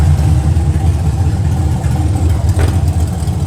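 A 6th-gen Camaro with an LT1 V8 and long tube headers idles loudly up close, its deep rumbling exhaust burbling steadily throughout.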